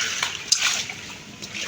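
Children stomp and splash through a small rainwater puddle after a storm, producing a few short, close wet splashes over soft dripping.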